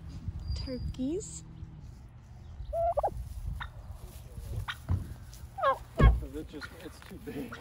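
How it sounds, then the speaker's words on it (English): Turkeys gobble repeatedly nearby in warbling bursts, with people talking and road rumble underneath. "Turkeys."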